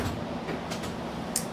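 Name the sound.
streetcar riding along St Clair West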